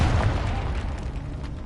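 A Confringo blasting spell detonates in Hogwarts Legacy, a deep rumbling boom that stays loud and heavy for the whole stretch, with no clear pause or tail.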